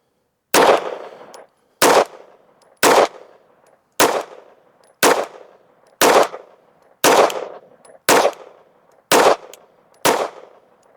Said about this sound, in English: Let's shoot the top left target.